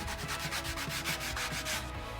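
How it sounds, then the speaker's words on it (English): Hand sanding of wood molding with sandpaper gives a steady, close, repeated scratchy rubbing in even back-and-forth strokes, alone and with no voices. "I can take a little sandpaper Yeah. after that and kind of get all the little ridges out"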